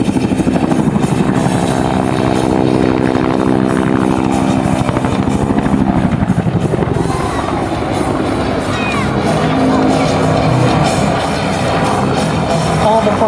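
An AH-1 Cobra attack helicopter flies at the 2011 Wings Over Wayne airshow, its rotor chop pulsing loud and steady while a crowd murmurs and an announcer's voice runs over it.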